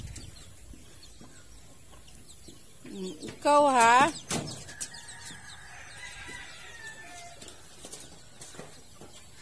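A native chicken squawks loudly in a brief burst as chickens fight on a farm, amid quiet outdoor background, with a short spoken remark nearby.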